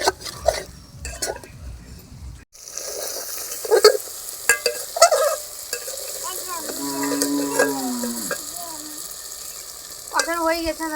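Chicken being stirred with onions and tomatoes in a pot for chicken do pyaja, with scraping spoon strokes and soft sizzling in repeated bursts, loud and close, and some clinks of utensil on metal.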